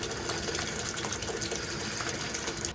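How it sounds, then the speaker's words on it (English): Water runs from a tap into a pitcher with a bowl set on top, a steady close gushing and splashing that fills both vessels without a break. "Next thing I'm going to do is fill it with some water."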